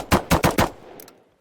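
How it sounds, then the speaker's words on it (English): An SMG in the VR shooter Into the Radius fires four sharp single shots in quick, even succession, each a loud crack, followed by a fading tail and a couple of faint mechanical clicks. "It has 3 firing modes, and this one we got singles."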